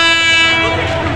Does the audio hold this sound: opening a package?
no